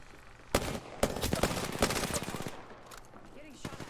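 Video game gunfire in sharp close bursts, with a loud opening shot, a fast stuttering string of rounds, then a few trailing shots, loud and near.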